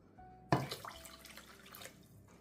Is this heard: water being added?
yes